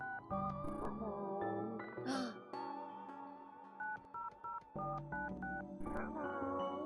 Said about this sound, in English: Classic noise of phone.